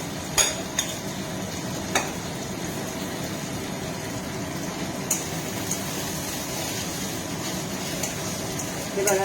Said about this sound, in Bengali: এবার আমি আদা পেস্টটা দিয়ে দেব।